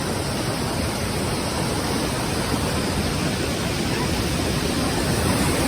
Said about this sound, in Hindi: बहुत ज़्यादा पानी बह रहा है, ये देखो।